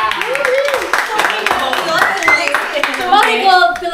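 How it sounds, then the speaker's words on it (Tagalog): Hands clap repeatedly in a quick, uneven run beneath loud, animated talking voices. "Palakpak ka!"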